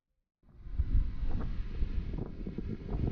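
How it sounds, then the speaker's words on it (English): Wind blows steadily across Mount Ishizuchi in late November, a broad rushing roar that starts abruptly and holds at a constant strength, buffeting the microphone with low rumble and no voices. "The wind begins blowing from the northwest"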